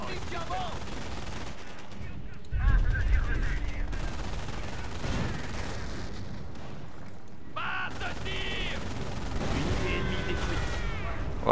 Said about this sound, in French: Voilà, un bon coup d'artillerie.